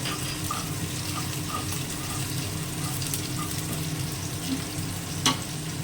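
Chopped garlic fries in hot oil with a constant, moderately loud sizzle and crackle, plus a single sharper clink late on.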